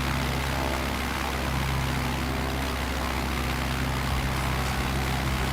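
A RANS S6 light aircraft engine in Microsoft Flight Simulator 2024, over-revved past redline and damaged, drones loud and steady with an unbroken propeller roar and no pauses.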